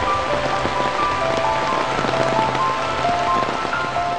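Continuous monsoon rain in the Western Ghats pattering on surfaces, a steady wash of drops with faint tonal chirps threaded through it.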